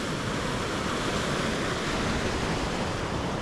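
Sea waves washing onto the shore at Cala Millor, Mallorca, a continuous broad surf hiss with a low rumble, steady and moderately loud with no distinct breaks and no voices.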